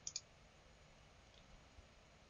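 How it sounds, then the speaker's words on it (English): Two quick, faint mouse clicks on a computer running Scratch come in close succession at the start, followed by quiet room tone with a couple of softer ticks. "Click on looks block"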